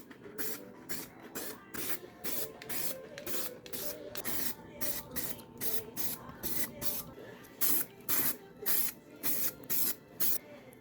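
Spray can laying primer onto a Honda Goldwing motorcycle body panel during home repair work: a series of short hissing bursts, about a dozen even passes with brief gaps, close and steady.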